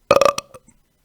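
A single loud, close burp with a few quick pulses, trailing off into faint rumbles and near-silence.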